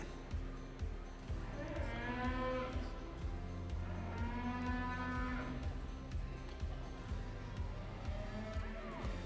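Red Angus bull calf mooing in a show ring at a cattle show in Regina, Saskatchewan: two long, loud bellowing moos, with a low crowd murmur and arena hum throughout.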